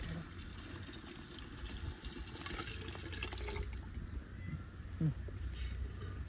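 Water pours and splashes into a cooking pot for Ramzan festival biryani, a faint, uneven liquid rush with a few small knocks, set against background room noise and quiet voices.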